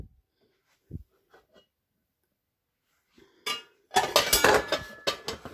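Gotham Steel cookware pots, pans and lids clinking and clattering while being unboxed, a few soft knocks first, then a dense burst of metallic clanks and rattles near the end.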